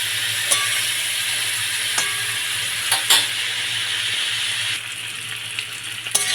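Vegetables sautéing in a pan with turmeric, salt, sugar and red chilli for a home-style hilsa fish head curry, a steady close sizzle with occasional clinks of a stirring spoon, no voices.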